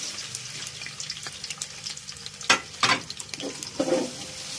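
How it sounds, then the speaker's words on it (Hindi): Chopped onions hit a cup of hot oil in a large pot for kabsa, frying with a steady close sizzle while a spoon stirs and scrapes in a few louder bursts; no one speaks. "इसमें हम ऑयल डालेंगे 1 बड़ा कप, प्याज चॉप की हुई डालेंगे"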